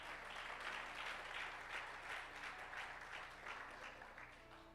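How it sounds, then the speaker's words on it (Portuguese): A church congregation claps for the Lord during a worship service, a steady, fairly distant round of applause that swells in pulses and tapers off near the end. "Dá uma salva de palmas mesmo ao Senhor."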